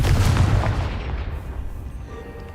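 A Confringo spell explodes in the video game Hogwarts Legacy with a loud, deep boom and blast that rumbles and then fades over a couple of seconds.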